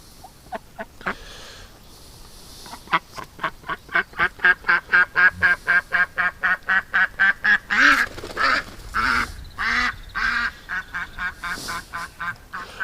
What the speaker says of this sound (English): Antisocial ducks.